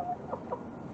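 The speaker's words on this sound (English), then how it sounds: "Why are you so loud today, huh? You're so noisy, Dorothy." A couple of soft, short clucks from a nearby chicken over a quiet background hum.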